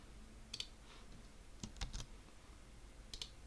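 Computer keyboard keys tapped while entering an email address: short clustered bursts of close, crisp clicks separated by quiet pauses, no talking.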